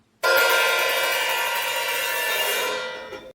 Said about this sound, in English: If I push down with my foot and then tighten it back up, now it's really, really open.